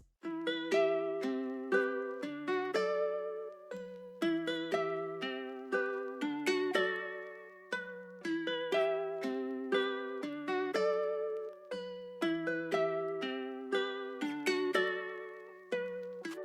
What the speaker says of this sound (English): we have a nylon guitar and it sounds like this